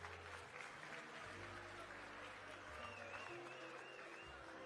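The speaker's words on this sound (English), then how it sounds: "A big applause, please." Applause from a crowd at a EURO Business Cup 2025 draw ceremony, steady clapping at a low, distant level under a faint hum.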